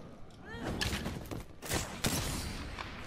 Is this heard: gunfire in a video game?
yes